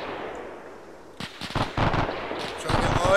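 Gunfire in a military video game, a series of sharp bursts and cracks that grow louder and denser over a rumbling background.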